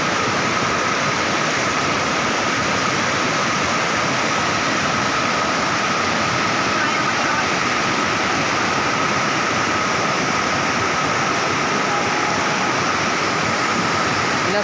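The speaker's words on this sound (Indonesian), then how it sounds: "Inilah suasana pemandian di Lawe Gerger." Rushing river water at a natural bathing spot at Lawe Ger-Ger near Kutacane, a steady, loud broadband roar that fills the whole stretch without any voices.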